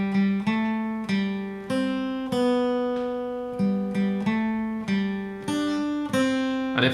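An electric or acoustic guitar picks the Happy Birthday melody in an even, straight rhythm, clear single notes ringing alone with no talking.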